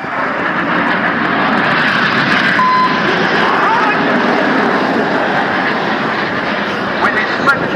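Red Arrows jets roaring overhead during the Portrush air show, a loud sustained engine rumble from aircraft passing close, with a commentator speaking over a public address.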